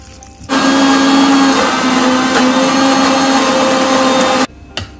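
A mixer grinder whirs loudly and steadily for about four seconds, grinding a masala paste of tamarind, green chili, ginger and a little water, starting and stopping abruptly with no talk.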